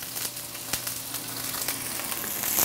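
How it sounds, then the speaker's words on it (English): Green beans sizzle and brown in hot oil in a pan, a steady close crackling hiss with scattered sharp pops that grows slightly louder toward the end. "Get a little sizzle and we're just going to brown them a little bit"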